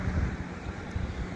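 Gusty wind buffeting the microphone outdoors, a low rumbling roar with uneven swells, fairly loud and close.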